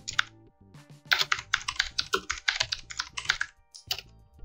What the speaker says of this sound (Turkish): Herhangi bir şey yazıyorum buraya.